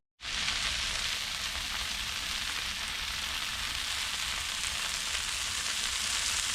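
Kale and onions fry in a pan at a backyard cookout, producing a loud, continuous hissing sizzle that begins abruptly and holds evenly throughout, with no talking.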